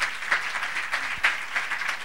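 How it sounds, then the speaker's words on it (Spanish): Audience at an education conference applauds a group of colleagues, a moderate, steady patter of clapping from a modest crowd, close and continuous with a few louder claps standing out. "Entonces, un aplauso para los compañeros y las compañeras."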